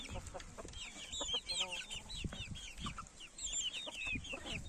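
Chickens cluck and chirp close by, a busy mix of high peeps and low clucks over faint rustling.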